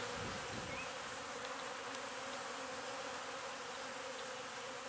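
Honey bees buzz in a nuc hive frame, a dense continuous drone heard up close and steady throughout.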